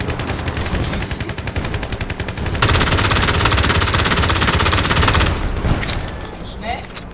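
AS-VAL rifle firing in the Battlefield Play4Free video game, loud rapid automatic bursts crackling in quick succession, with a heavier sustained stretch of fire in the middle; a voice talks over part of it.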